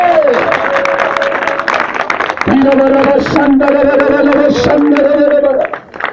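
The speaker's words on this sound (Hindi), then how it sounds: "ताली बजाकर प्रभु को महिमा दे" A church congregation at a healing crusade claps in steady praise, a dense, continuous patter of many hands over sustained singing and music that carries through to the end.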